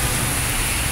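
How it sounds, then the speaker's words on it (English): Dense, steady hiss of heavy thunderstorm rain pouring down close by in Van Cortlandt, the Bronx, New York City, a constant wash of noise with no breaks. "it's raining hard."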